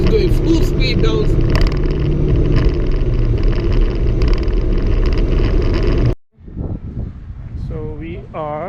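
A car speeds downhill at full speed without braking, giving a loud steady roar of engine, road and wind noise that stops abruptly, followed by quieter background sound and a person talking.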